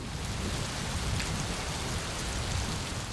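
Heavy rain pours down in Pakistan as a dense, even hiss of falling water, steady and loud throughout with no pauses or voices.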